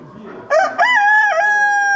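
A fighting rooster at a small-animal show crows loudly and close by, one drawn-out cock-a-doodle-doo ending in a long held note.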